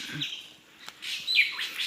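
Many small birds chirp and tweet among tall trees near Akathiyur in Thrissur, with bright overlapping calls rising and falling through the clip and a soft, fairly distant woodland background.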